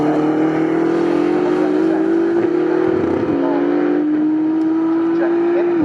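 GT3 race car at Snetterton in the British GT Championship blasting past at speed, a loud sustained engine note holding steady then dropping briefly and climbing again, with a commentator's voice running underneath.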